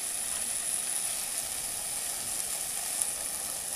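Fish curry spice paste sizzles steadily in a pan as a little water goes in, a close, continuous hissing frying sound with no talking.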